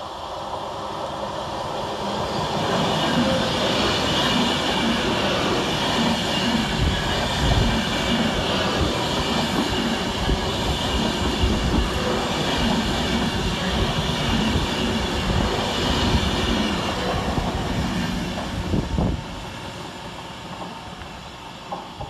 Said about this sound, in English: 46 minutes late for Avanti West Coast is 390-016, working 9 Mike 50 from Edinburgh Waverley to London Euston